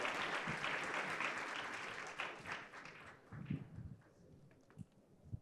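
An audience at a finance talk on fixed income applauds a speaker being introduced, a dense burst of clapping that fades after about two seconds into scattered, sparser claps, quiet and somewhat distant.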